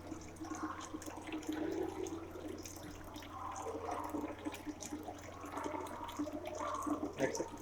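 Recycled household water, reused after bathing, utensil and clothes washing, being poured out, a continuous splashing and gurgling flow close by, rising and falling in intensity throughout.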